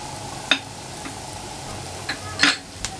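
Onion and green chillies are stir-fried in a pan for a bitter gourd dish, a low sizzle broken by a few sharp spatula scrapes against the metal, loudest near the end.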